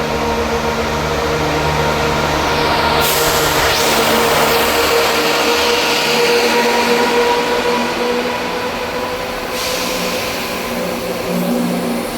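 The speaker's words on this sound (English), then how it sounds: "And arriving in now is the 12:59 Scotrail service from Dundee to Edinburgh Waverley." A Scotrail service from Dundee draws into Edinburgh Gateway station with a loud, sustained rumble and a low drone, with a brief brighter hiss midway and no voices.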